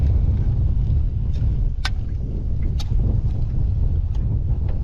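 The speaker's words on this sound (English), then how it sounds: "Wind just started gusting out of nowhere." Outdoor wind gusting out of nowhere across a microphone during a catch-and-cook outing, a loud continuous low rumble and buffeting roar with a few faint ticks and knocks mixed in.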